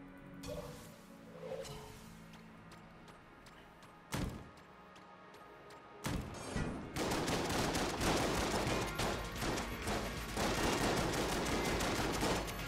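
AK rifle fire in the roguelike shooter Enter the Gungeon, quiet clicks and a couple of isolated thumps giving way to a rapid, sustained burst of automatic shots that stays loud and dense to the end.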